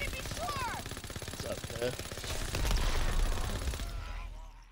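Rapid gunfire in a WW2 zombie video game, a dense stream of automatic shots rattling under casual talk and shouting, ending with a brief loud burst before fading.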